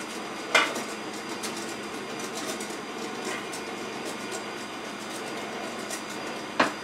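Electric mixer running at lowered speed, blending whiskey blondie batter as the flour mixture goes in: a steady close whirring hum with a sharp clank against the bowl near the start and again at the end.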